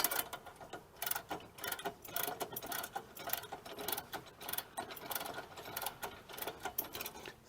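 Faint, rapid metallic clicking of a ratchet wrench snugging a bolt on an RV jack stabilizer kit, a quick irregular ticking that continues throughout.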